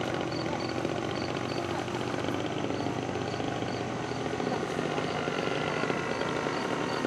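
A 50%-scale model Nieuport 28 biplane drones overhead at an RC flying jamboree, its engine a steady, loud buzz that holds evenly throughout, with a faint repeating high tone and broad outdoor noise underneath.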